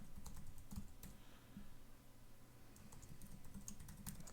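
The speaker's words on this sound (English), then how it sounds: "Enter our email address and password." Typing on a computer keyboard while entering an email address and password at a website login screen, a quiet, steady patter of keystrokes with brief pauses, close by and with no voices.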